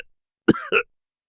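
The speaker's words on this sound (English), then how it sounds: "Splat started coughing again." A short double cough voiced by a reader, one sharp hacking burst followed quickly by a second rougher one, close and clear against silence.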